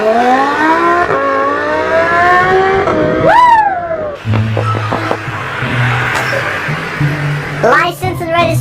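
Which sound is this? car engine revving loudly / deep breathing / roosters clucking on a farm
car engine revving loudly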